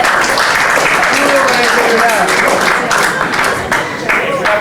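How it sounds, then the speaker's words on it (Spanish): Loud, close applause from an audience at a commemorative political event, dense clapping running throughout with a voice talking over it. "Así que vamos a aplaudir."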